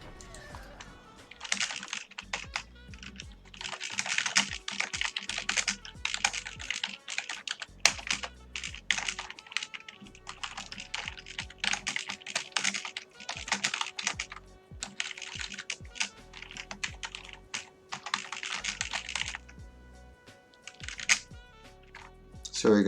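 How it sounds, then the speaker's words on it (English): Rapid bursts of computer keyboard typing, used for in-game map chat during a 1v1 match, clatter steadily across the stretch with short pauses and someone speaking over parts of it. "I'm just typing again in the map chat to replace the other person."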